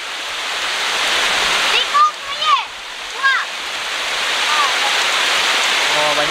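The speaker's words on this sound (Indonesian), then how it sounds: "Anginnya deras guys, yang kencang." Strong wind roars steadily through a durian orchard in a village, a loud constant rush with a few brief birdlike chirps over it.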